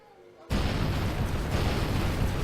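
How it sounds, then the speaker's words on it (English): A spacecraft crash-lands in the video game Kerbal Space Program with a big explosion: a sudden, loud roaring blast bursts out of near silence and keeps rumbling at full strength to the end. "Jeez, big explosion."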